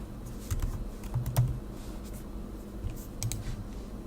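Quick bursts of typing on a computer keyboard, soft clustered key clicks with short pauses between them, close and fairly quiet, with no voices.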